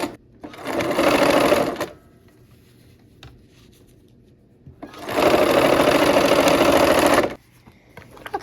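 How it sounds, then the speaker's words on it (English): Sewing machine stitching a fabric seam in two loud, fast whirring bursts of about two seconds each, separated by a quiet pause with a faint click. "let's go ahead and sew the seam"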